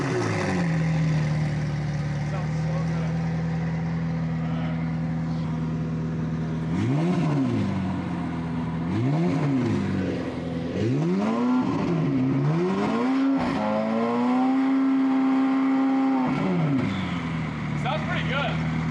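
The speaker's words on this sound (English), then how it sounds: "this McLaren's gonna rev up for the Rimac" A McLaren engine revs hard beside a Rimac Nevera on a dyno, rising and falling in several loud swoops before holding a sustained high-rpm roar, with steady engine drone throughout.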